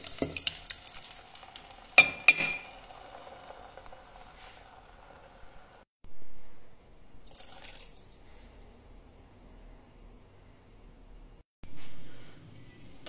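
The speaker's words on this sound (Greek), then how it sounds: "Σε ένα άλλο κατσαρολάκι τσιγαρίζουμε το κρεμμύδι και το σκόρδο." Onion and garlic sautéing in a small pot, heard as quiet sizzling with a few stirring scrapes and clinks, fading to a low hiss with brief soft bursts.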